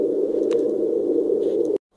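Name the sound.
white noise from a white noise generator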